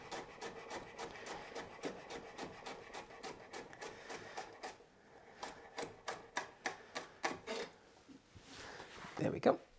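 A knife chops vegetables finely on a cutting board, with quick rapid taps and scraping, then a slower run of distinct knocks toward the end and a brief louder clatter.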